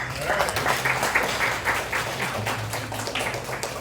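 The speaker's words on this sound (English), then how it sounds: "And give them another big round of applause." An audience at a corporate stage magic show applauds, a dense patter of many hands clapping that swells and fades slightly, with some voices mixed in.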